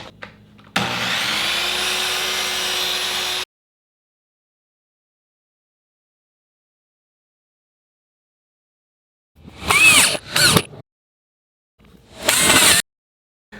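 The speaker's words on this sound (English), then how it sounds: "This is a compound miter saw." An inexpensive compound miter saw cuts crown molding, its motor whining loudly for a few seconds, then silence, then two short bursts of the blade spinning up and biting into the wood.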